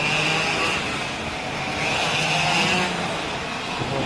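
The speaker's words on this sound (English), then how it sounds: "you're going to start hearing that engine pitch change a little bit because you got a kart coming" Racing kart engines at a ROK Cup USA finals race, Orlando Kart Center, a steady loud buzzing drone whose pitch shifts slightly as a kart draws nearer, with no talking over it.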